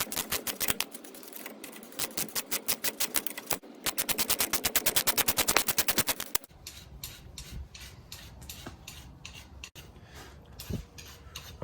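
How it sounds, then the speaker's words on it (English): Impact wrench rattling off a ball joint nut, with a 14 mm on the pinch-bolt side, loud rapid hammering bursts in two runs for about six seconds, then quieter scattered clanks and handling noise. "I'm going to go back and forth with it with the impact wrench with the 14 on the bolt side"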